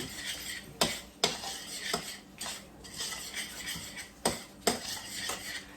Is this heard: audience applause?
no